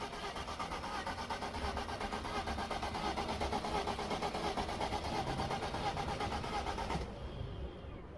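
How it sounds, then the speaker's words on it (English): A car engine cranks without catching, a steady rapid churning that runs loud and unbroken for about seven seconds before stopping, leaving faint residual hiss. "If you're experiencing a crank with no start symptoms similar to this"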